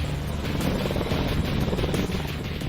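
An Apache attack helicopter of the Indian Air Force flies steadily overhead, its rotor and engine making a loud continuous buzzing drone with a rhythmic low thump throughout.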